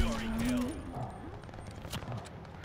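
Rapid gunfire from the Call of Duty video game crackles in short bursts beneath someone talking excitedly over it.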